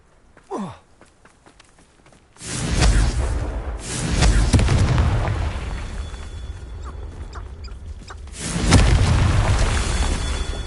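A Confringo explosive spell in Hogwarts Legacy erupts in deep booming blasts, the first swelling into a long rumbling roar and a second boom hitting near the end, loud and full.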